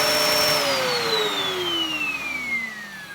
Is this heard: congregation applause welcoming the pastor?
no